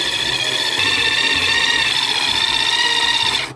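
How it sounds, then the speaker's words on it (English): An electric coffee grinder grinds coffee beans with a loud, steady whirring buzz that runs for several seconds and then cuts off abruptly at the end. "let's grind some coffee beans"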